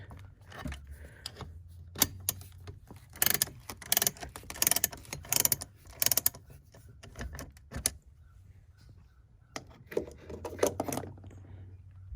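A wrench works loose the X wheel chocks on an RV, giving close metallic clanks, ratchet clicks and rattles in irregular bursts separated by brief quiet pauses.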